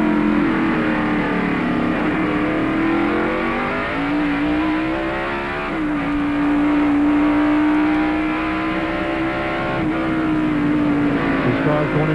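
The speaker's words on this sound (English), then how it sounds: "we're watching Rusty Wallace in the Miller Genuine Draft Ford trying his best to stay in front of Ricky Rudd." NASCAR stock cars, among them a Ford, race around the Sonoma road course in 1995, with a loud, sustained engine drone that rises and falls in pitch as the cars accelerate and shift, close and continuous throughout.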